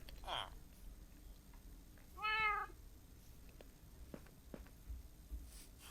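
A cat meows in the video game Minecraft, two short mewing calls: one near the start, then a longer wavering meow a couple of seconds later, over faint background noise.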